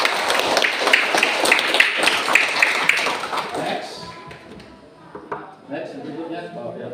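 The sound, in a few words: applause for a student in class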